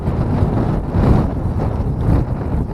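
Wind gusting across the microphone beside a fishing pond, a loud, steady rumbling buffet that swells in a few stronger gusts.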